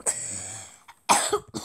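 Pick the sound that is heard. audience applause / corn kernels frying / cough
cough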